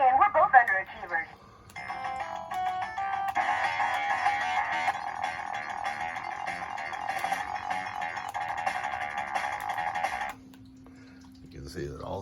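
A Baywatch pinball machine plays its sound test effects: bursts of electronic tones, jingles and music-like voiced callouts, with a short pause near the start and a sustained low tone near the end.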